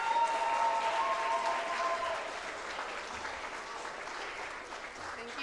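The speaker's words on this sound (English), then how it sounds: "Please, a huge round of applause." Applause at a journalism writing conference award presentation, with a brief tonal sound early on, then a steady wash of audience clapping that fades slightly and continues evenly.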